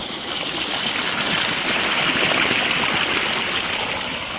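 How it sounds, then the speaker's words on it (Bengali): A new shallow tube-well pump gushes water into a rice paddy, a steady loud splashing rush close by, continuous throughout with no voices. "দেখতে পাচ্ছ কত সুন্দর, কত স্পিডে মেশিনটা জল বের হচ্ছে"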